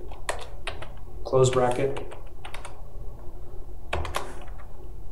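Quick clicking keystrokes on a computer keyboard, a few short bursts of typing close by while a person speaks over them.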